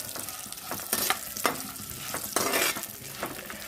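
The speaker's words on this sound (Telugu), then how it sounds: "కొబ్బరి ముక్కలు, అలాగే 4 ఎండుమిరపకాయలు, పుట్నాలు వేసి వేయించుకుంటున్నాను" Coconut pieces, four dried red chillies and roasted gram dry-roasting in a pan, with close spatula scrapes and stirs cutting through a soft sizzle in irregular bursts.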